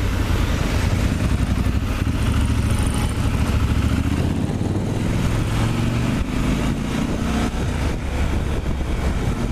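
A Triumph Scrambler 1200 XR motorcycle is ridden on the road, its engine droning loudly and continuously up close, mixed with heavy wind rush throughout.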